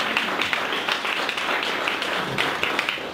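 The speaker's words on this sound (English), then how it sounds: "let's give a round of applause to Jacob." Applause from an audience after a talk at a tech meetup, a brief patch of scattered clapping, fairly close and moderately loud, with a few sharper claps standing out.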